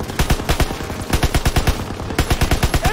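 Rapid automatic machine gun bursts from a World War II shooter game, loud and close, with sharp repeated shots in quick rhythmic volleys and a brief pause near the end before firing resumes.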